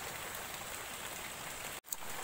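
Heavy rain driven by wind, a dense steady hiss of downpour, close and constant, with a brief dropout near the end.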